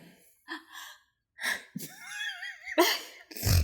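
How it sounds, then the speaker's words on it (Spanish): A single sharp sneeze bursts out near the end, right after a quick inhaled gasp, amid soft voiced sounds from people in a conversation. "Eso fue un estornudo."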